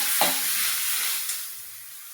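Cashew and white sesame paste hitting hot oil with fried onions gives a brief soft sizzle and a stir of the spoon, then a steady quiet hiss of frying in the pan.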